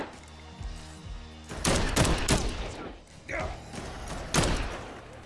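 Gunfire in Dead Island 2, several sharp bursts of shots clustered together with thuds between them, loud and close, with quieter stretches in between.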